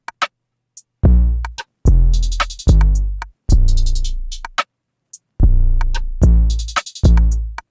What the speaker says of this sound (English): So altogether, our drums sound like this.